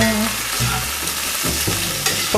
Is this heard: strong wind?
no